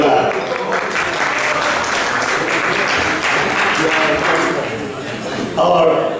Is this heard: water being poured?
no